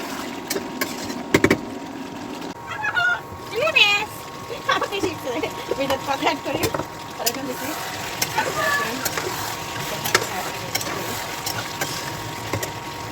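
Meat frying and being stirred in a pan on a gas stove, a steady sizzle with spoon scrapes and clinks running continuously beneath someone talking, plus a low background hum.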